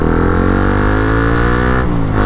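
Motorcycle engine running steadily at close range as a ride begins, a loud continuous idle-to-rev drone with a brief dip and pickup near the end, no talking.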